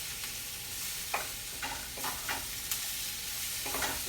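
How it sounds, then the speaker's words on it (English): Onions and apples cook together in a pan, giving a steady low sizzle with a few soft stirring scrapes and light clinks scattered through, close by and moderately quiet. "We're just going to cook the onions and the apples together for just a couple of minutes"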